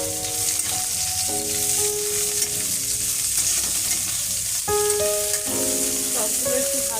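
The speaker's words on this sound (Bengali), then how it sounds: "পেঁয়াজটা একটু ভাজবো ভালো করে।" Onions frying in a pan for paneer, a constant sizzle with stirring scrapes, while a tonal musical background runs underneath.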